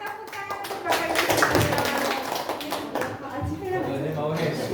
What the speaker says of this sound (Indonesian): Silakan tepuk tangan untuk Bapak Ibu